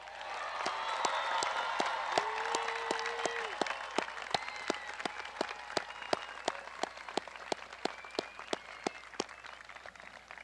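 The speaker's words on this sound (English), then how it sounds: "Let's give the graduates of the class of 2014 a round of applause." Graduation audience applauding the class of 2014, steady dense clapping that thins toward the end into scattered individual claps, with a brief tone and some murmur underneath.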